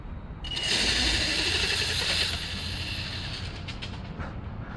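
An electric-converted HPI RS4 RC car runs on a 3S battery, its motor giving a loud high whine that rises quickly, holds for a couple of seconds, then eases off over a rumbling, noisy background.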